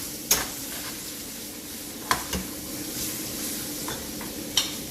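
Fish basted with foaming butter in a hot pan: a steady, close sizzle runs throughout, broken by a few sharp metallic clinks of a spoon against the pan. No one speaks.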